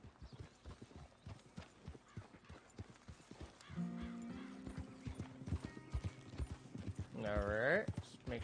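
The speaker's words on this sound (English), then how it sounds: "I got another horse following me." A horse's hooves clip-clop at a steady walking rhythm in the western game Red Dead Redemption 2, close and clear, with a loud whinny near the end and someone talking intermittently.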